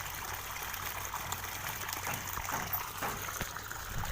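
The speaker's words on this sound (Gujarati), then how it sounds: "અત્યારે પાણી પણ મોટર શરૂ છે ને પાણી પણ આવે છે અને રસકામાં પાણી જાય છે" Water pumped by a motor gushes steadily into an irrigation channel beside a lemon tree, a constant close, broadband rushing with no speech.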